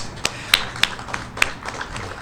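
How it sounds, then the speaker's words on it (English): A small crowd at a county ribbon-cutting ceremony gives sparse applause, with a handful of distinct sharp claps standing out over a quiet room. "Round of applause for Jeru"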